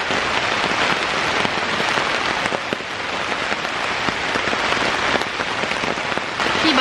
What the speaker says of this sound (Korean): 비가 제가 생각했던 것보다 훨씬 더 많이 와서